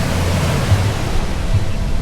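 Rough sea surf rolling in at Tambobong beach in Dasol, Pangasinan, a steady loud broadband wash with low rumbling swells and no speech.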